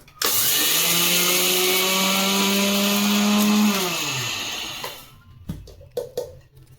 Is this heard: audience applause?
no